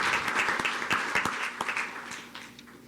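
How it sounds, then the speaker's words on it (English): An audience at a school board meeting applauds, with a burst of many hands clapping that gradually thins and fades over a few seconds. "if we could all give her a round of applause"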